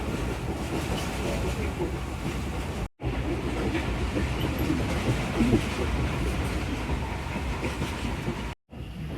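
Tezgam Express passenger train pulling out of Khanewal Junction station in heavy rain, a steady loud rumble of wheels and rail noise mixed with rain and wind buffeting, continuous throughout with two brief dropouts.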